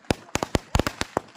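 Diwali firecrackers go off in quick succession, about a dozen sharp, loud bangs in an irregular rapid rhythm, close by and with little else between them.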